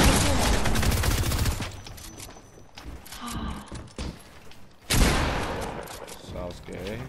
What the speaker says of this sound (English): Did I just shoot him through that?